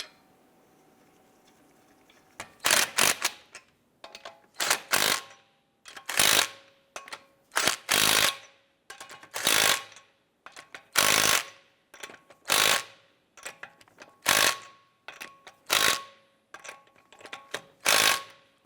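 A ratchet snugs down lug nuts on a 2012-2017 Toyota Camry wheel, clicking in a dozen or so loud, close bursts of rapid pawl clatter separated by short pauses, with no voices.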